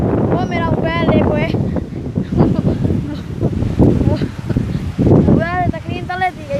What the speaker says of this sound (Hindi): वो बड़ी तेज हवा है बड़ी तेज